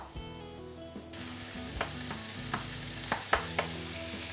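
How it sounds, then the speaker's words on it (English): Courgette and aubergine cook in a pan with a soft continuous sizzle, broken by a few sharp stirring clinks and scrapes toward the end; no talking. "I'm gonna leave it to cook now for a good 10 minutes until everything goes down in volume."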